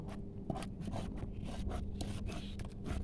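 Taro leaves being ground finely into a paste, heard as rhythmic rough scraping strokes, close and fairly quiet, repeating steadily with no talk.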